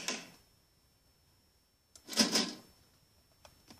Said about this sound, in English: I have the key now. It should unlock the door.